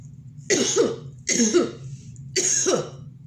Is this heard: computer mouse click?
no